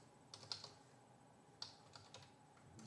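Faint typing on a computer keyboard, a few sparse, light key clicks in short bursts against quiet room tone, with no talk.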